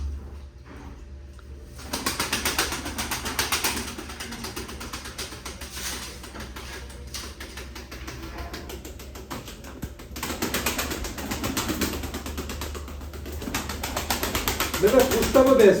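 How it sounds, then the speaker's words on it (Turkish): Pigeons flap their wings in bursts as they are released by a pigeon seller, with some cooing, set against steady background noise and intermittent nearby talk. "Gel hemen kuş uçuruyoruz gel."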